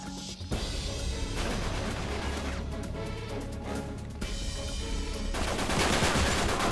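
Gunfire in the video game Uncharted 3: Drake's Deception, dense continuous bursts of shots and crashing action sounds at steady loudness, without speech.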